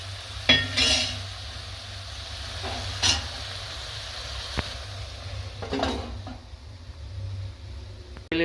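Tempering for patarveliya is stirred in a pan over a low flame, with a soft sizzle underneath and a few scattered scrapes and clinks of the spoon against the metal.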